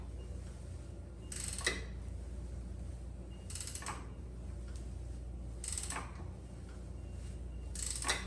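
Ratchet wrench snugging the handlebar bolts on a 2014–2020 Harley Street Glide or Ultra Classic fitted with polyurethane bar bushings, four short bursts of clicking spaced about two seconds apart over a low steady hum, fairly quiet and with no talking.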